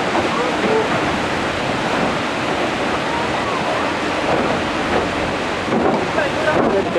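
Close by, the Rhine Falls at Schaffhausen roar with a loud, continuous rushing torrent of water, dense and unbroken, with gusts of wind buffeting throughout.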